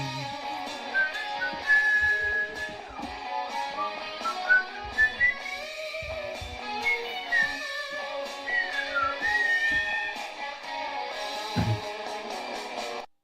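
A person whistles a melody at a talent show, with sliding, warbling notes over background music, pausing once partway through.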